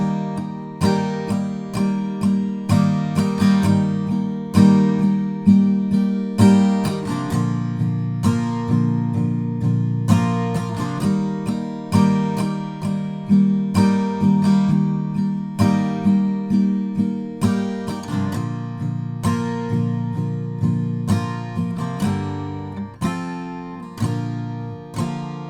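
An acoustic guitar strums an easy version of the chords to a song, with steady, even strokes ringing out close and loud, alone with no voice.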